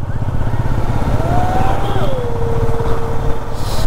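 A motorcycle rides forward along a rainy ghat road in Tamhini Ghat, its engine droning steadily and close throughout, with a rising and falling whine and wind noise over it.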